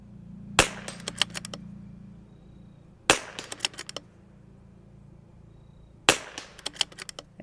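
Three sharp .22LR rifle shots from a CZ 457 fitted with a scope, spaced about three seconds apart, each followed by a quick trail of faint metallic pings and clinks from the target range.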